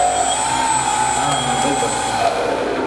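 Model airplane engine droning steadily as the aircraft taxis on the ground, a loud continuous whine with slight pitch shifts, while someone talks over it.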